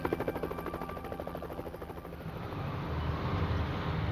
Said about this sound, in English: They scanned the area inch by inch as choppers circled overhead.